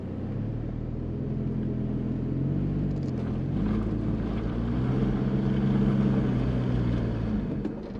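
A 4x4 with its front diff locker engaged crawls straight over rocks, its engine droning steadily at low revs and rising slightly in pitch, close and continuous with wind rumble and no talk.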